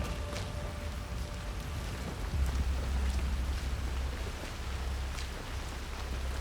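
Steady rain falls in Hitman 3, a soft continuous hiss of drops with a low rumbling undertone, fairly quiet and with no voices.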